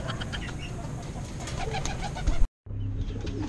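Pigeons coo steadily in a loft, their low repeated calls layered over a busy background of other birds, with a brief dropout near the end.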